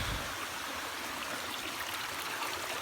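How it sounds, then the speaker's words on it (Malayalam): A small waterfall pours steadily inside a rocky hillside spot, a continuous close rush of falling water with no speech over it. "ഇതിനുള്ളിൽ ചെറിയൊരു വെള്ളച്ചാട്ടം കേട്ടോ,"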